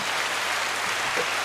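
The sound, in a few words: applause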